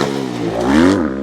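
A prepared Kawasaki KXF dirt bike engine, freshly rebuilt, revs on a supercross track, rising to a loud peak and easing off again in one steady, close-up burst with no talk.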